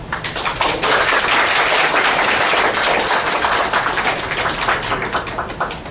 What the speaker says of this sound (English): let's conclude this very inspiring talk with a big round of applause.